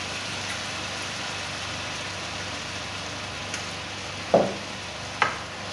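Noodles with soy sauce are stirred in a pan over a constant soft sizzling hiss, with two brief clinks of the utensil toward the end and no voices.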